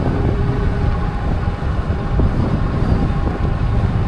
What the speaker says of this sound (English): So this is gonna be windy. It's gonna be windy.